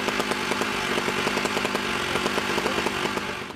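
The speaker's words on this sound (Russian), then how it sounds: "приняли решение спилить решетку на окне при помощи" A power saw cuts through a metal window grille with a harsh, steady buzzing whine and rapid rhythmic pulses, loud and continuous throughout.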